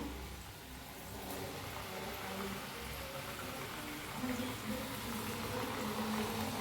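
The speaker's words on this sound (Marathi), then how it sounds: "तर छान ह्याला बी तळून घेऊया" Chakli sizzling in hot oil in an iron kadhai, a soft, steady, dense bubbling hiss that runs continuously at low level with no talk.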